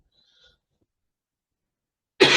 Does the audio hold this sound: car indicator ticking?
no